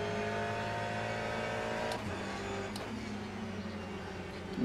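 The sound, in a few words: car engine in a racing video game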